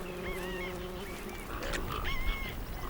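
Water birds call in the wild with honking, goose-like cries, several overlapping calls rising over a busy outdoor background.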